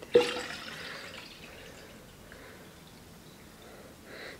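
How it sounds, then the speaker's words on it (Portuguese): A 500 ml cup of water is poured into a jug in a brief splash followed by a soft trickle, moderately faint and heard alone. "Mais um copo, na medida de 500 ml, vou colocar aqui dentro."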